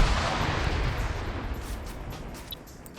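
A grenade goes off in an Arma 3 PvP firefight, a loud broad blast at the start that rolls and decays over a few seconds, with faint distant pops trailing behind.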